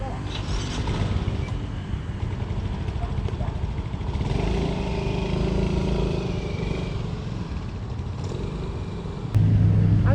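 A motorcycle engine rumbles steadily throughout, loud and close, with a slight rise in revving near the end.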